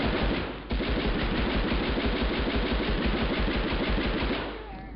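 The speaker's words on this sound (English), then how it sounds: "Okay, machine gun only." Sustained machine gun fire in the PS1 game Medal of Honor, a dense rapid rattle of loud shots running almost without pause, with one brief break near the start.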